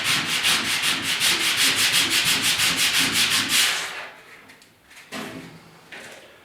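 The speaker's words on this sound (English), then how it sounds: "just fold up a piece of sandpaper and take your time" Folded sandpaper rubbed by hand over an inside corner of a 1956 Ford pickup hood during bodywork, in rapid rhythmic back-and-forth strokes, loud and close for several seconds, then a few scattered scuffs and handling sounds.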